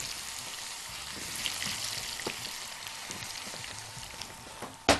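Potato cubes frying in a little hot oil make a soft, steady crackle and sizzle, close and fairly quiet, with a sharper clatter near the end.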